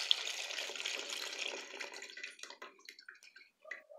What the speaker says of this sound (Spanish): A continuación procedemos a colar el macerado.